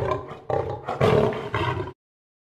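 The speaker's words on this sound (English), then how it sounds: "Lion." A lion roars in a short series of loud, rough, throaty bursts that rise and fall over about two seconds, close up and alone, then stop abruptly.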